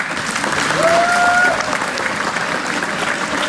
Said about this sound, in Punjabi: ਇੱਕ ਤਾੜੀ ਮਾਸਟਰ ਜੀ ਦਾ